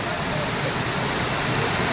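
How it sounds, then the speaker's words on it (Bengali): Heavy rain pours on the streets of the town of Phuentsholing in Bhutan. A dense, steady hiss runs unbroken and fairly loud, with a voice faintly present beneath it. "পেনশলিং শহরে এখন প্রচণ্ড বৃষ্টি"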